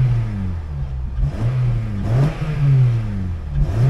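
A donor car pulled from a salvage auction, its engine said to show 240,000 miles, idles and revs up and down in several surges, close and loud with a steady low drone between the revs.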